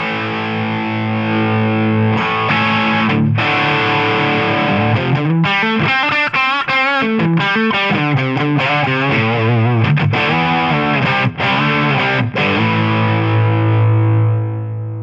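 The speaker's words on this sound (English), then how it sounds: "we still have the level of overdrive and distortion" Heavily overdriven, distorted electric guitar played through a Tonex pedal, with sustained chords and busier riffing in the middle, loud and unbroken with no talking.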